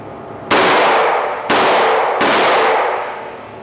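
An AR rifle fires full-auto in three loud, sustained bursts until the magazine runs dry, each burst ringing out sharply and close with brief gaps between.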